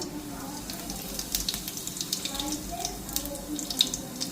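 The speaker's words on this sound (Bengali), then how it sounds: "জিরা ফোড়ন দিলাম" Cumin seeds sizzle and crackle in hot oil in a kadai, a continuous frothy hiss with scattered small pops at close range.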